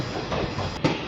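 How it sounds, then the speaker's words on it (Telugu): A passenger train near Vijayawada rumbles as it slows down, with a steady wheel-on-rail roar heard from inside the carriage and a brief louder clack near the end. "ట్రైన్ అయితే స్లో చేస్తున్నాడు అక్కడ."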